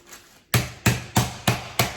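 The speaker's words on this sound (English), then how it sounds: "And we'll just pound them out maybe half an inch thick." Chicken tenders inside a plastic bag are pounded flat, giving five firm, evenly spaced thuds about a third of a second apart, close and loud, with no talking.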